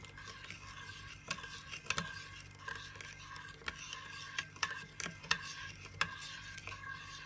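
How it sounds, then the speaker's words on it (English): A spoon stirs sugar and a pinch of salt into a French toast mixture in a bowl, making faint, irregular scraping and clinking taps in a quiet room. "You're just gonna give it a stir."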